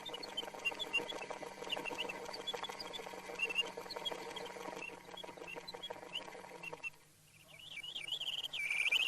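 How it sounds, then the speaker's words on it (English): Mechanical automaton songbird in a clock museum, its song produced by a pair of bellows and a slide whistle: quick, warbling chirps and sliding whistled trills over a steady mechanical whir, with a brief pause before the trilling resumes. "for the song, a pair of bellows and a slide whistle"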